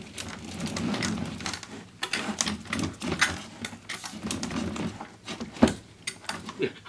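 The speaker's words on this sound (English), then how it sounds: "then you move your lever arm across, continue to crank and apply a bit of pressure." A hand-cranked roller machine rolls old newspaper into tubes for a paper bicycle, making a continuous, uneven rumbling and creaking from the crank with scattered clicks and knocks.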